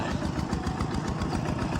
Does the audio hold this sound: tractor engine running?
yes